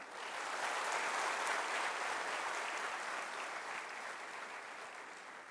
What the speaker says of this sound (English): May I request you to give a good round of applause for acknowledging the presence of our worthy Pro-Chancellor, Mrs. Rashmi Mittal.